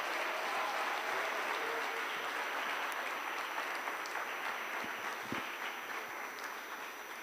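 A conference audience applauds the Honorable Minister after her address at a fireside chat: a sustained, even wash of clapping from a large crowd, heard from a moderate distance, with no voices.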